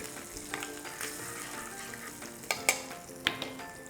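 Green chillies and turmeric frying in hot oil, a moderate crackling sizzle with a few sharp pops and spoon taps standing out near the end.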